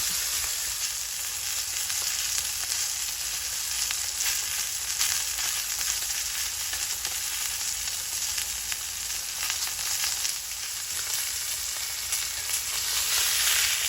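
A ribeye steak sears in a cast iron skillet at deer camp, giving off a loud, continuous sizzle and crackle that holds steady, close and unbroken, with no talking.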